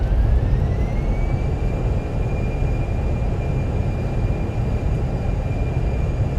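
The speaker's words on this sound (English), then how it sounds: "Reversers are out." Simulated airliner thrust reversers deploying on landing at Belfast in Microsoft Flight Simulator: a loud, steady broadband engine roar with a rising whine that levels off and holds throughout.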